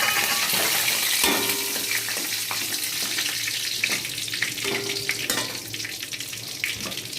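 Whole spices, bay leaf, dried chilli and cumin, sizzle in hot oil in a pan already used to fry potatoes and crab, a loud, close, continuous crackle with occasional stirring clinks.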